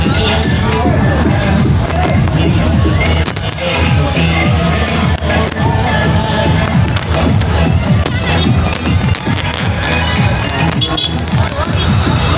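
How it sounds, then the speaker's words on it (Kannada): Dense crowd at the Puttur temple fair in the Santhe Gadde grounds, a steady loud babble of many voices with footsteps and shuffling close by, continuous throughout without pauses. "ಪುತ್ತೂರು ಜಾತ್ರೆ ಕ್ರೌಡ್ ಅಂದರೆ ಕ್ರೌಡ್ ನೋಡಿ"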